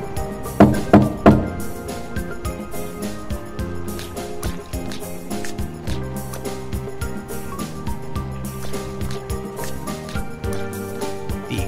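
Several sharp knocks on a hatch in the adventure game Zak McKracken 2, a quick cluster of loud raps up front, followed by steady game music.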